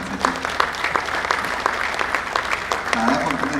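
Audience applause at the Goa Book Festival launch in Panaji, a sustained burst of clapping heard under a voice speaking over it.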